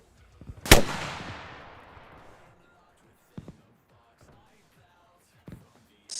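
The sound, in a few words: rocket fire in Arma Reforger video game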